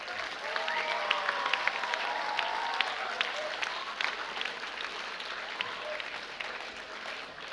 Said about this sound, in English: should we have a thunderous applause for the quiz master?